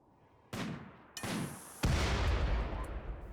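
Sharpshooters firing at a turret in RimWorld: three sharp, echoing gunshots spaced about half a second apart, each trailing a rumbling decay, the last one loudest.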